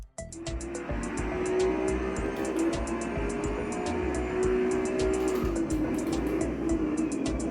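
A race car laps a track in a racing simulator game, its engine note rising and falling steadily with tire noise and repeated sharp clicks, loud and continuous without voices.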